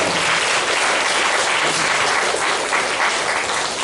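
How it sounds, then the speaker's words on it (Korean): Dense, steady applause from a church congregation, loud and sustained throughout, with no voices rising above it. "모두 힘차게 격려의 박수를 부탁드리겠습니다"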